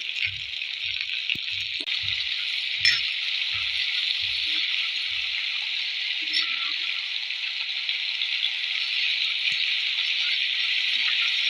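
Cluster beans (koyakka) with turmeric and curry leaves frying in oil over medium heat, giving a steady close hiss throughout, with a few soft knocks and taps early on.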